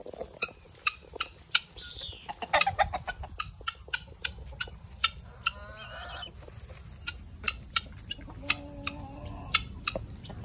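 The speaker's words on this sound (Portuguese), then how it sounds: "Galinha tudo depenada aqui." Chickens on a rural farm cluck repeatedly at close range, a steady run of short, sharp clucks and calls over a low background murmur.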